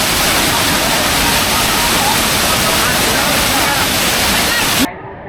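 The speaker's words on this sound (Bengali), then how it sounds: "মায়াবী ঝর্ণার সৌন্দর্য।" Mayabi waterfall at Jaflong in Sylhet, full of water after rains, a loud unbroken roar of falling water close by, cutting off abruptly near the end.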